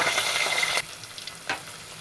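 Mustard seeds, fenugreek, chana and urad dal, ginger and garlic fry in hot oil for a lemon curry, with a loud close sizzle that drops suddenly to a softer crackle, then a brief stirring flare.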